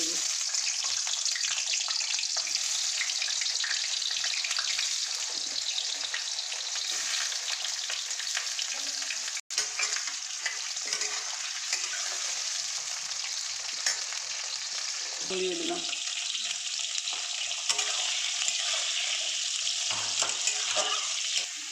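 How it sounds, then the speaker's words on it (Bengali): Potatoes fry and get stirred with chili powder and spices in a pan, a steady close sizzle running throughout with scraping stir sounds, while a voice speaks briefly over the cooking. "এবারে মশলাটাকে দিয়ে প্রথমে আমি আলুটা ভেজে"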